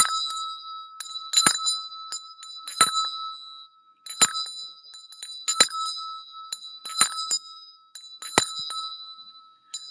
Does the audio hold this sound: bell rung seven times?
yes